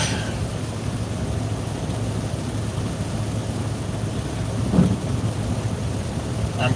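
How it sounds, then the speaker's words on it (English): Steady rain with a low thunder rumble, heard from inside a vehicle; continuous hiss at even loudness with one brief swell near the end, no talking. "And it is raining over here."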